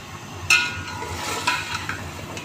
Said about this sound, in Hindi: ये सारे मसाले जो हैं हम शामिल कर देंगे ये और इनको अच्छी तरह से भून लेंगे।